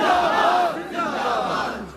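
A large crowd at a religious rally shouts slogans in unison in Urdu, loud massed voices rising and falling in a call-and-response chant.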